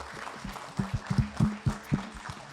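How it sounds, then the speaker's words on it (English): Audience applause for a panel closing a workshop session, a soft bed of clapping in a hall with a few heavier, irregular thumps standing out, fairly distant and moderate in level. "let's give a good round of applause to our distinguished panel"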